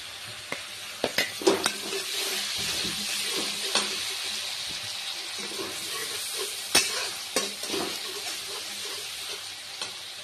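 Onion paste fries in a pan for an omelette curry, giving a steady broad sizzle with scattered scraping clicks of a spatula against the pan.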